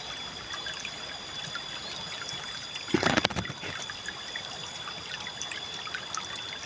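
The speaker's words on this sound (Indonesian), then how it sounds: "ini aku mau cuci jamurnya di sini ya teman-teman. Lihat nih di aliran sungai kecil ini, pinggir sawah persis" Cepaki mushrooms being washed in a small stream beside a rice field, with water trickling and flowing steadily and a brief louder splash and slosh midway, close up, under a constant bed of insect and outdoor ambience.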